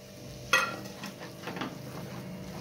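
A spoon scrapes and stirs spiced masala with tomatoes in a pan, one sharp clink near the start, then soft scraping over a faint, steady sizzle.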